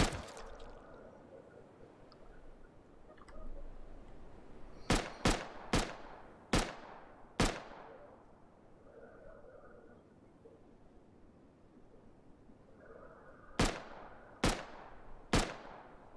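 Gunfire in a first-person shooter video game: sharp, loud single shots in two bursts, five quick shots followed by a pause and then three more, over a low steady game ambience with no talking.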